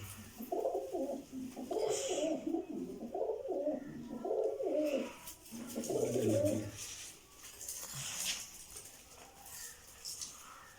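A pigeon held in the hand, a female, coos close by in repeated soft, throaty bursts, with some faint rustling and background noise.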